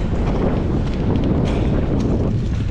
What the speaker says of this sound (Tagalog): Medyo may kalakasan dito yung hangin kasi